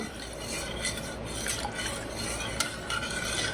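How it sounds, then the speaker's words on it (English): Spoon stirring black pepper and salt into a simmering homemade stuffing in a pot, soft repeated scraping and a few light clinks over a faint bubbling background, close and without talk. "I'm going to add 1 teaspoon of black pepper and 1 teaspoon of salt. And stir that."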